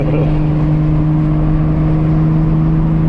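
Engine drone inside a 700 hp Nissan 350Z swapped with a Toyota 2JZ engine, a loud, steady, low hum held at an even pitch throughout.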